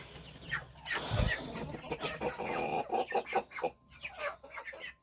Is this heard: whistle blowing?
no